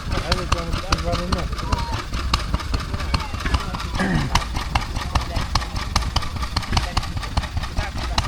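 A Petter stationary engine running at a steam and craft fair, a rapid regular chuffing beat close by, with people talking over it and fair background noise.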